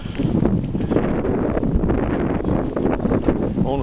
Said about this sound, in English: It's really, really windy today, but it's blowing directly off the beach from the west.